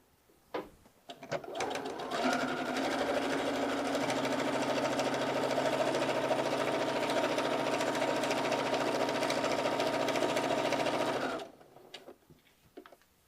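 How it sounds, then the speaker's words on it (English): A sewing machine runs in one long continuous burst while stitching down the edge of a garment pocket, a loud steady mechanical whir lasting about nine seconds after a brief start, then stopping, with no talk over it. "I'm going to set this on the machine, and I'm just going to stitch"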